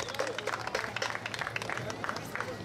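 Audience clapping and crowd noise at an open-air beach concert, a dense patter of claps mixed with voices and cheering, steady and fairly close throughout.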